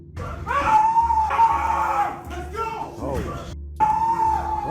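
A man screams wildly in a Target store, pretending to pour petrol on himself as a prank; loud, strained howling yells come in several bursts, with other voices speaking between them.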